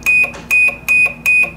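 A cleanroom monitor from the SETRA SRPM series runs an alarm self-test, giving four loud, evenly spaced electronic beeps with short gaps between them, with no other sound.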